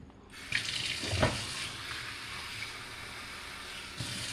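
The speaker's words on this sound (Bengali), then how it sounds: "আমি আগে প্রথমে একে জল দিয়ে ভিজিয়ে রেখে দিই চিকেনটা" Running tap water pours into a sink to soak chicken, a steady hiss and splash that starts after a brief quiet and continues evenly throughout, no talking.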